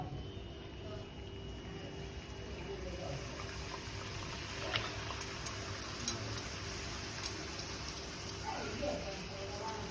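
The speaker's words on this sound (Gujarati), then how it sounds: "હવે આપણે આને ગરમ તેલમાં એડ કરી દઈશું" Bhature dough slides into hot oil in a kadai and sets off a constant soft hiss and crackle, like light rain, while a person talks quietly over it.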